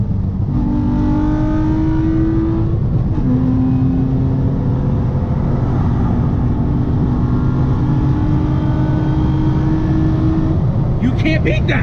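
A car fitted with an Injen cold air intake revs up, its engine and intake roar building loud and close as it accelerates, with a brief whoop, while people talk over the sound.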